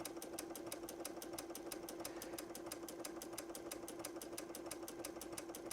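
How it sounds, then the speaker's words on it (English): A Brother Essence VM5200 sewing machine stitches a sideways zigzag, its rapid, steady mechanical chatter repeating at an even pace throughout, faint and without talking. "So this says zigzag to the left."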